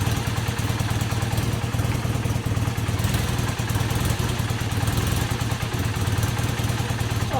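A rebuilt Honda CB250N SuperDream motorcycle engine runs steadily at idle nearby, a constant mid-pitched throb with rapid mechanical clatter throughout, fairly loud and uninterrupted.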